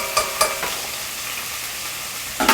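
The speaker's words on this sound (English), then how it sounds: "we are going to then saute these veggies" Vegetables sautéing in a pan for Hungarian mushroom soup, a steady low sizzle with a few sharp stirring scrapes near the start and again at the end, close and moderately loud, no talking.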